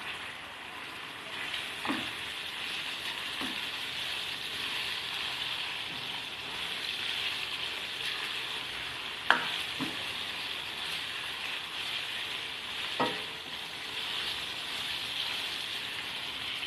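Mutton liver and kidney fry with ginger and garlic in a pan, giving a steady close sizzle throughout, broken by a few sharp clinks and scrapes of stirring.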